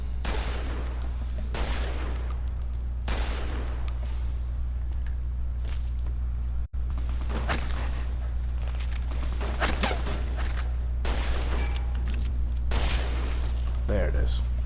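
Gunfire in the video game Fallout New Vegas: sharp shots crack out in irregular bursts over a steady low hum, while a player talks now and then.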